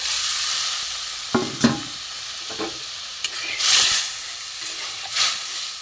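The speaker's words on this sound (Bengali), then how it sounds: "জল দেবো খুবই ঘন হয়ে একটুখানি জল দিয়ে দেবো" Thick boiled mung dal in a pan sizzles softly after water is added, a low hiss punctuated by a few stirring knocks and brief bursts of louder spitting.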